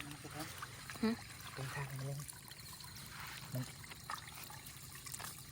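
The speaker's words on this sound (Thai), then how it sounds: "นี่มันมันไหลลงตามถังน้ำนี่" Water trickles steadily into a bucket outdoors during light rain while fishing traps are checked in the morning. The faint, continuous flow runs under nearby voices talking throughout.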